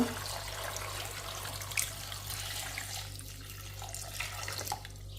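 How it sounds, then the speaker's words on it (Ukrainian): Cold water running from a tap into a cooking pot for a traditional Ukrainian Cossack dish, a steady close splashing stream that thins toward the end, with no talking. "Заливаю студену воду."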